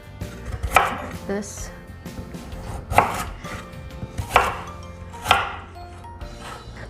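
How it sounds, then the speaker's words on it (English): Kitchen knife chopping a peeled carrot on a cutting board, five or six distinct, fairly close thuds spaced about a second apart, with a brief spoken remark between cuts. "So we're going to cut the carrot"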